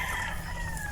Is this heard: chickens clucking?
yes